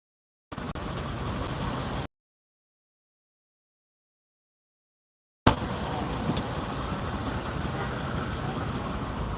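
Steady road noise from trucks and cars in busy city traffic, a continuous close rumble that cuts out for a few seconds and then returns at the same level.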